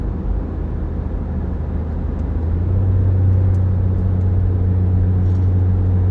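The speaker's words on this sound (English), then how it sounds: "The turbo's singing right now." Turbocharged race car at Watkins Glen, cruising in high gear, gives a loud, steady engine drone that deepens into a stronger low hum partway through, with no clear turbo whistle standing out and no talking.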